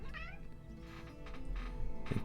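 Cats meowing in the Battle Brothers strategy game, a few soft, drawn-out meows over a steady low hum of game music.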